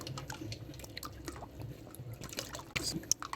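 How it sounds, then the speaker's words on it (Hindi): A little water trickles and drips into thick homemade guava juice with lemon and ice, faint and intermittent with a few small splashes near the end. "ये काफ़ी गाढ़ा है तो इसमें पानी डालेंगे थोड़ा सा"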